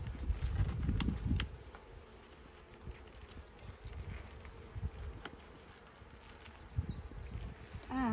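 Bees drone steadily around a hive while honey is being harvested. The buzzing is faint and continuous, with a few louder bumps and rustles near the start.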